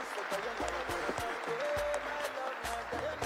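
Audience clapping at a youth conference session, a steady wash of hands under voices and crowd noise, fairly loud and continuous throughout.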